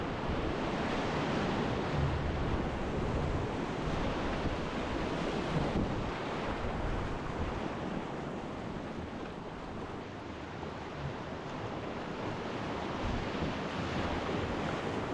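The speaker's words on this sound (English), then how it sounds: "Just big waves right down the middle." Big waves rolling down the middle of a desert river rapid at flood stage make a loud, continuous rushing roar, with steady wind buffeting throughout and no talking.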